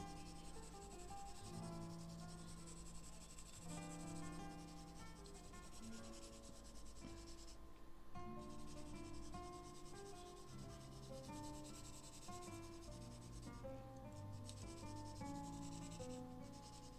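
A very soft charcoal pencil being sharpened makes a faint, continuous scraping rub, with a melodic background running underneath throughout.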